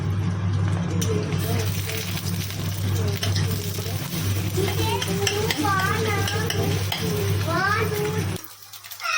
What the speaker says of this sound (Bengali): ডিমটা লাল লাল করে ভাজা হয়ে গেছে।